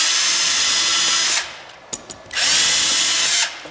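A cordless power drill drives screws through a door hinge during a door installation, two loud sustained whirring runs separated by a pause with a few small clicks, close by with no talk.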